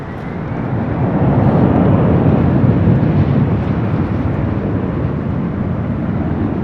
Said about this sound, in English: Next arrival here on the north side is a Learjet 60 coming in from